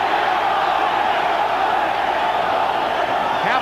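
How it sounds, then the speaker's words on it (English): Boxing arena crowd roaring and chanting for Chavez during round one of the Julio Cesar Chavez versus Kostya Tszyu fight, a loud, dense, unbroken wall of voices that swells continuously throughout. "Crowd chanting for Chavez."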